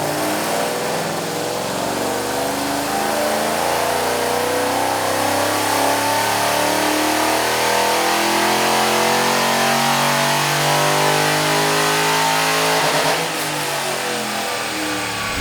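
A 2009 Ford Mustang GT/CS with a three-valve V8 and 171,000 miles runs on a dyno; the engine roars loud and steady through a long pull, then drops off near the end, with no talk over it.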